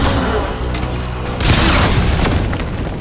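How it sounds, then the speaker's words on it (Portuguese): In Metal Gear Solid V: The Phantom Pain, a bazooka fires and its round explodes with a heavy, loud boom. The blast swells midway and a rumbling, crackling tail follows. "eu acertei um tiro de bazuca no cara"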